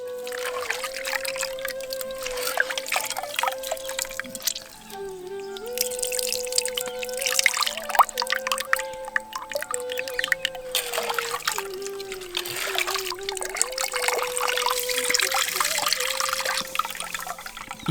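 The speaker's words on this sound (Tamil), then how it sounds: "இப்ப நம்ம எடுத்து வச்சிருந்த புளியை தண்ணி ஊத்தி நல்லா கரைச்சி எடுத்துக்கலாம்" Tamarind is worked by hand in water for a pepper rasam, making continuous close sloshing, dripping and trickling sounds in uneven bursts, with a steady tonal hum running beneath and no speech.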